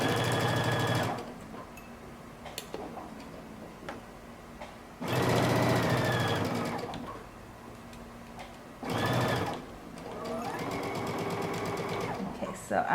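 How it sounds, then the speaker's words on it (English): A home sewing machine stitches a mustard sweater's shoulder seam in three loud bursts of steady, rapid needle whirring, separated by quieter pauses where the fabric is pivoted at a corner. "We're going to sew across the shoulder and then pivot when we get to that little cutout."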